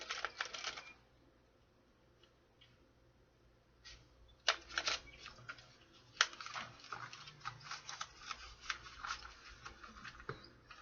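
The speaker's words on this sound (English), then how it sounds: "One more shuffle for Aries." Crisp papery riffling and soft slapping bursts, starting and stopping in quick flurries, as tarot cards are shuffled close by with quiet pauses between.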